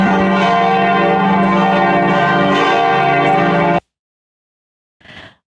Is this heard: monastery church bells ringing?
yes